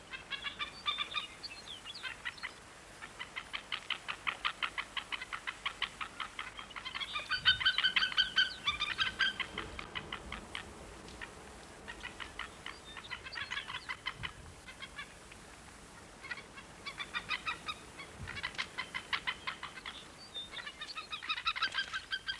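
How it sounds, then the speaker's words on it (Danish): A white-tailed eagle screams, repeating bursts of shrill yelping calls over about twenty seconds, some louder and closer, others fading, with short pauses between series. "En skrigende havørn er et godt tegn."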